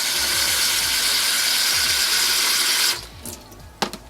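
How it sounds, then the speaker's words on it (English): Water is poured into a Chef Path food storage container in a loud, steady rushing stream for about three seconds, then stops abruptly, followed by a few small splashes and clinks. "Put some water in."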